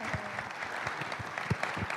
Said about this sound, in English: Yes, please applaud her, absolutely.